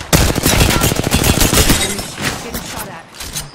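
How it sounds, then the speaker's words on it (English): Rapid bursts of gunfire in the Apex Legends battle royale, loud and close, with dense overlapping shots for the first half before thinning into scattered, quieter reports. "Getting shot at."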